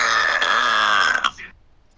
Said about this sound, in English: That is Sun's fan burping.